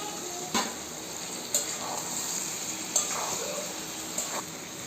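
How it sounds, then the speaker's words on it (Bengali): Boiled mutton pieces go into a spice masala in a pan, with a low steady sizzle of frying beneath a few sharp scrapes and clinks of stirring. "মটনটাকে সিদ্ধ করে রেখেছিলাম, সেটা আমি মশলার মধ্যে দিয়ে দেবো।"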